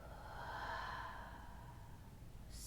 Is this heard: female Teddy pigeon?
no